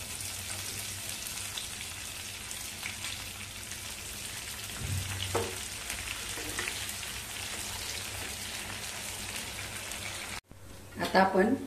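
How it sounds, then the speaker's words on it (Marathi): Mustard seeds, curry leaves and chopped mild green chillies sizzle in hot oil for a dhokla tempering, a steady close crackling hiss that runs evenly and gives way to a different, brighter sound near the end. "फोडणी चांगली हलवून घ्यायची चमच्याने."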